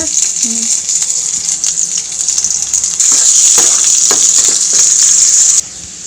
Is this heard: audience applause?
no